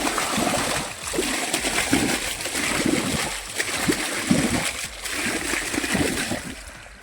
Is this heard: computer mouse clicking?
no